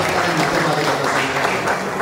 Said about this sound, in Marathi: ज्यांना मनापासून टाळ्या वाजवायचं वाटतं त्यांनी बिनधास्त वाजवायला हरकत नाही